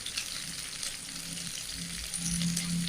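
Potatoes and pointed gourd frying in a pan with a little turmeric, a steady close sizzle with faint stirring, loudening slightly toward the end, no talk.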